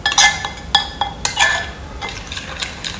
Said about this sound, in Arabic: خلوني بقى اقلب الحليب مع البيضه مع الكمون والكزبره والبهارات